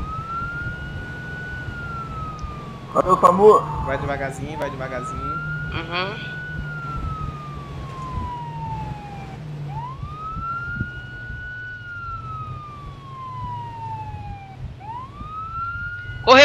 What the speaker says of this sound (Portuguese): Vou dar sirene, hein? Pode dar sirene.